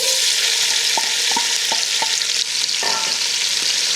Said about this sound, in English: Now we're gonna just let these saute a little bit.